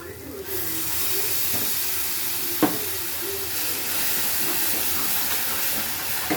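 Pureed tomato sizzling in a hot pan with turmeric, a steady loud hiss throughout with a few small pops.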